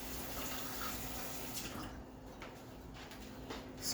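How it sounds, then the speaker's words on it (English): Tap water running and splashing as an ice cream scooper is rinsed, a faint steady hiss of flow with a few soft drips and splashes. "Sorry, rinsing off my scooper."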